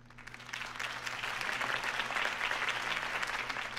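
A crowd in the video game Batman: The Telltale Series applauds after a political campaign speech. The clapping is faint and swells gradually into a full, continuous ovation with a low background hum.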